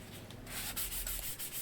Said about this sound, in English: it's on to quick hand sanding, just to remove any imperfections and flatten the surface in some places